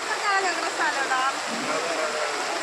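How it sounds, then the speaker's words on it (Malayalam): Flooded hill rivers and streams overflow after heavy rain, a continuous broad rush of fast water that a person talks over throughout. "അതിശക്തമായ മഴയെ തുടർന്ന് മലയോര മേഖലയിലെ പുഴകളും തോടുകളും കരകവിഞ്ഞൊഴുകുന്നു."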